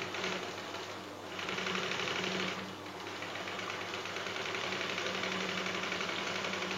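A sewing machine runs steadily during beginner sewing practice without thread, giving a close, continuous mechanical whir with fast stitching rhythm and a brief dip in speed near the start.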